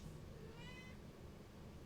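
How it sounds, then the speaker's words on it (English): A house cat gives one short, faint meow indoors, thin and high over a low background hum, with no talking. "Sorry for my cat."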